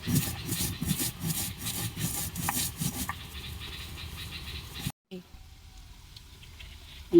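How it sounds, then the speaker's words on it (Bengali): Dry-roasted cumin seeds being ground into powder, a rough, rhythmic rubbing and scraping that runs steadily for about five seconds, then stops abruptly and leaves a quieter kitchen background. "জিরে ভাজাটা আমি শুকনোই বেটে গুঁড়ো করবো।"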